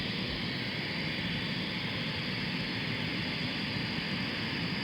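The engines of the presidential plane run down after landing, giving a steady, loud, broadband jet roar and whine that holds level throughout with no other sounds above it.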